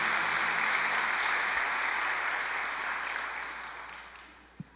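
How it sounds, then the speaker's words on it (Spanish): A church congregation gives a strong round of applause during a Sunday morning service, dense steady clapping that gradually fades out, ending with a single soft thump. "Un fuerte aplauso al Señor Jesús"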